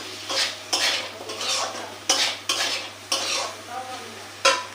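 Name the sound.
frying and stirring ingredients with turmeric in pan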